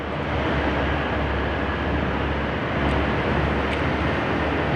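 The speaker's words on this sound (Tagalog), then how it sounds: "Yung sasakyan nasa dulo pa lang, yung tunog ng sasakyan, nasa kabilang dulo na." Vehicle sound echoing inside Kaybiang Tunnel forms a steady, washed-out roar. The reverberant rumble fills the space evenly throughout, with no voices.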